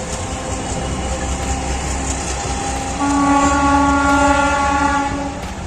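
A train rolls past near the Bangladesh border, a loud steady rumble of wheels on track joined midway by a sustained horn blast that holds for several seconds before easing off.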